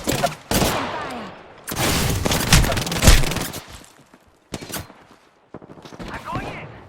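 Bursts of gunfire in the video game Apex Legends, loud clusters of rapid shots and booms separated by short quiet gaps, with an occasional voice mixed in.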